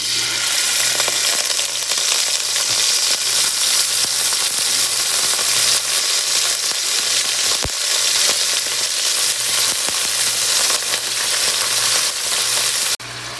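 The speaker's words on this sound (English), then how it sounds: "So I got my beef in the pan frying" Meat sizzles loudly and steadily in a hot pan, a dense crackling hiss with occasional pops, close up and without talking.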